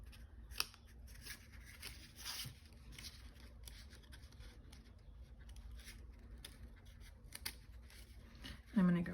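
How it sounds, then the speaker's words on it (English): Scissors snipping paper for a scrapbook overlay layout, a steady series of quiet close cuts with soft paper rustle in a hushed room, a brief louder handling noise at the very end. "Try not to cut into the white."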